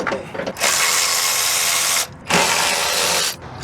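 A ratchet wrench clicks in two long rapid bursts while bolts are loosened to remove an engine's crank pulley during a rebuild in a parking lot. The ratcheting is loud and close, separated by a short pause.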